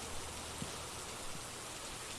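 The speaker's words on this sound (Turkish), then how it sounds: "Yağmur sesine gıcık oldun." Continuous rain in the horror game Phasmophobia, a constant soft hiss of falling drops at moderate level with no speech, holding steady throughout the short stretch.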